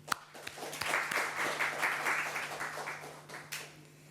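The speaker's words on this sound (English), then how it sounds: "We give them a round of applause for being so gracious about it." A crowd applauds at a startup founders' talk for Muslims in tech at UNSW, producing a steady wash of clapping that fills the whole few seconds at moderate volume and fades slightly toward the end.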